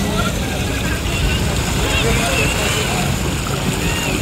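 A boat carrying passengers island hopping around Britania Islands, Surigao del Sur, Philippines, gives off a steady, close wash of engine rumble and splashing water that stays constant throughout.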